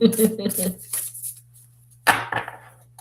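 Crisp riffling and slapping of large tarot cards being shuffled, in two quick bursts separated by a short quiet gap, with a low hum behind.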